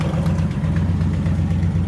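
Engine of an abandoned 1968 Ford XL Fastback idling with a steady low rumble and a possible rod knock or exhaust manifold leak, loud and close with no talk.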